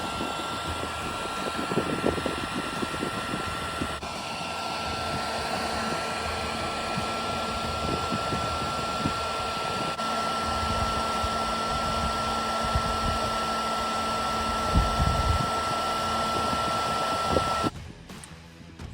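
A Makita cordless heat gun runs outdoors in a paddock, joining wires for a water pump, giving a steady close whirring fan drone with a thin high whine that holds for about seventeen seconds before switching off near the end.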